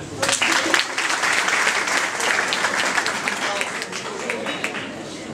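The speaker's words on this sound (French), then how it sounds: "On applaudit quand même." An audience at a conference session on digital technology bursts into loud, dense applause that peaks early and then gradually thins and fades, with some voices mixed into the clapping.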